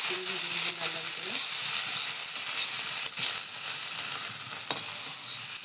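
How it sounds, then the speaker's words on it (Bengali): Beans, peas and carrots fry in a pan with a steady, loud sizzle and hiss that runs throughout, broken by a few brief stirring knocks and low voice fragments early on. "শিম মটরশুঁটি গাজরগুলোকে পুরো ভেজে নেব লাল লাল করে।"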